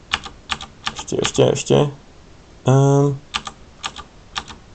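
Rapid clicking keystrokes on a computer keyboard during work in Blender, in short bursts with pauses, close and clear, while someone speaks Czech in between.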